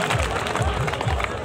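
A wrestling crowd at a village kushti bout in Nepal gives a short burst of applause and cheering, a dense rolling clatter of hands close by.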